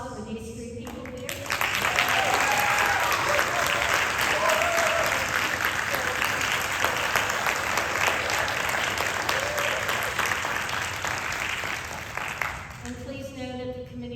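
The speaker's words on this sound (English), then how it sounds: "let's give one last round of applause for these 3 people here" An audience gives a sustained round of applause at a high school Wall of Fame ceremony, dense steady clapping that swells after a second and fades near the end, with brief talk at the start and finish.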